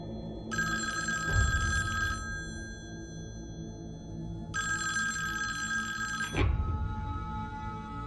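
A telephone rings in two long bursts of bright electronic trilling separated by a pause of about two seconds, with a low background hum and soft thumps underneath.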